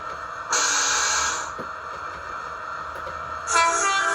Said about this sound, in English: What a horn!